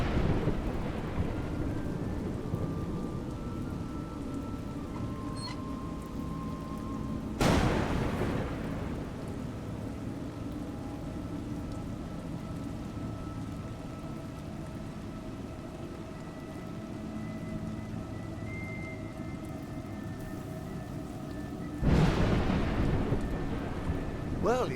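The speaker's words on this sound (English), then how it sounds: "It's raining." Steady rain falls throughout a stormy scene in the video game A Juggler's Tale, with two heavy, loud thunder cracks breaking through, one in the middle and one near the end.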